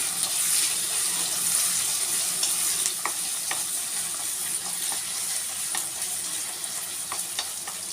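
Onions frying in a pan with salt and turmeric, stirred continuously: a steady bright sizzle throughout with scattered scraping clicks of the spatula against the pan, close and fairly loud, no voices.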